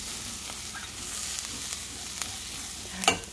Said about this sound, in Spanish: Y sigo sofriendo, ¿ok?